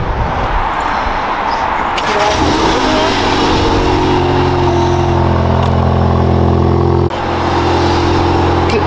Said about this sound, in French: Je te laisse démarrer l'auto mon copain.